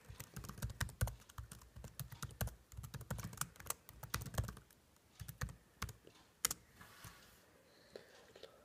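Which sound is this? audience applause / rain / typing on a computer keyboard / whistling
typing on a computer keyboard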